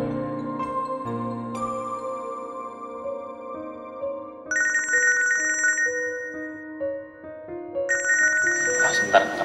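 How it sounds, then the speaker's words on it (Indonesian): A bright electronic phone ringtone plays a repeating melodic chime pattern, clear and close, with no voices. "Sebentar, angkat telepon dulu ya."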